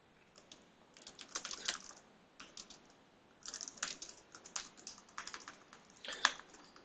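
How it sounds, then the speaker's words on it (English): Soft, close keystrokes on a computer keyboard come in a few quick bursts with short pauses between them, quiet and clear with no voice over them. "So let's just type something in there for fun."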